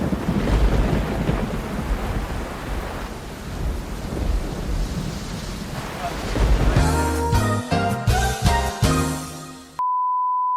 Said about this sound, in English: As you can hear the thunder clouds and rain clouds out there